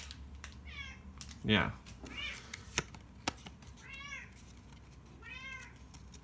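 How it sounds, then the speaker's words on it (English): Household cat meowing several times nearby, short rising-and-falling cries spread across the moment, with a brief spoken word, rustling and tapping sounds mixed in. "What do you want, cat?"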